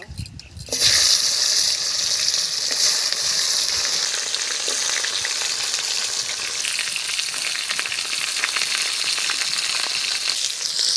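Crab pieces from the Sundarbans hit hot oil and burst into a loud, steady, close sizzle that carries on unbroken for several seconds after a brief quiet start; no talking.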